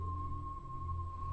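A kue putu street vendor's steam whistle sounds at night as a steady, thin, continuous tone held throughout, heard from some distance over low background rumble.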